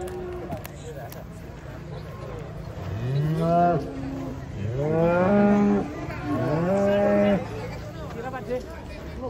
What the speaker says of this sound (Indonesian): Kita akan berburu di sini sapi-sapi unik, sapi-sapi jumbo dan sapi-sapi raksasa.